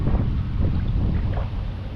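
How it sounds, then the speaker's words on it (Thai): Strong wind buffeting outdoors beside a natural sand-bottom fishing pond on an overcast day, a continuous loud low rumble with gusty swells, no voices. "วันนี้ลมค่อนข้างแรงนะครับ"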